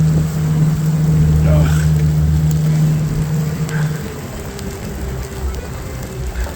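A motorboat engine drones loud and steady on a fishing trip near Tromsø in the Arctic, with heavy wind buffeting the microphone; the engine note holds strong for about four seconds, then eases back to a lower rumble.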